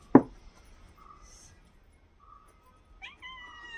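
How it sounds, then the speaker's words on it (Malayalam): A cat gives a few short meows and squeaky calls after a sharp thump, fairly close in an otherwise quiet room. "വഴി മാറിപ്പോ പൂച്ചേ."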